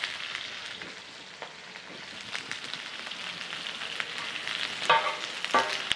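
Low, steady sizzling and frying fills a pan on a ranch kitchen stove as ingredients for a drunken liver dish cook, with occasional clinks and stirring scrapes growing a little louder toward the end.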